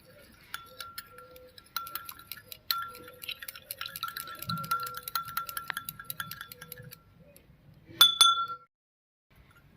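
A spoon clinks against a container while mixing betel leaf stem juice, lemon juice and vinegar, a quick series of light, ringing taps close by, ending in a louder clink and then silence.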